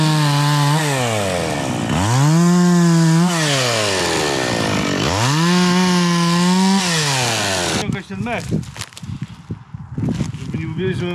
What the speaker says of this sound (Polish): To piła.